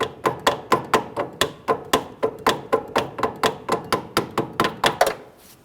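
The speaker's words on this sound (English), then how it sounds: "I'm just going to use a hammer to go ahead and tap this down." A hammer taps a starter part down on an Infiniti G37x 3.7L V6, about seventeen sharp, evenly spaced metallic strikes close up, with nothing else sounding between them.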